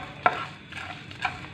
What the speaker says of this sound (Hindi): मसाला हमारा अच्छे से भून गया है।